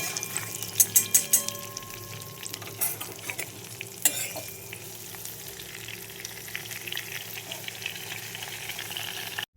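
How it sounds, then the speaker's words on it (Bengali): Pointed gourd (potol) frying in oil, with sharp clattering stirs of a spatula against the pan at the start over a continuous close sizzle that settles into steady frying. "তো দেখো পটলগুলো আমার ভাজা হয়ে গেছে"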